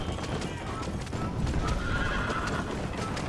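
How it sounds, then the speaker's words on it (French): A legendary horse in the Red Dead Redemption video game whinnies loudly while its hooves beat in a steady galloping clip-clop, filling the whole stretch. "J'ai chopé un cheval légendaire"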